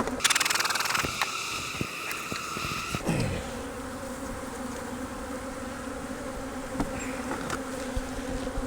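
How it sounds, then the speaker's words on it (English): Dense, steady buzzing of many angry bees swarming close by during a hive inspection, loud and agitated, with a few sharp clicks and knocks early on. "Those bees are mad."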